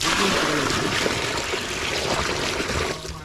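A bucket of water is poured out during an outdoor Russell's viper rescue, giving a continuous splashing gush that holds steady for a few seconds and tapers off at the end, with no talk over it.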